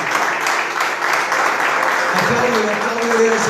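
A church congregation claps together in praise, a dense, steady wash of applause from many hands, with a voice speaking over it toward the end.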